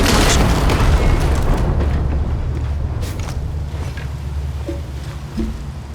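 A cannon in the video game Shadow of the Tomb Raider fires with a loud, deep boom that rolls out into a long, fading rumble, with a few faint knocks near the end.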